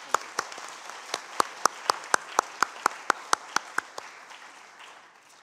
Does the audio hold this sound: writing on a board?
no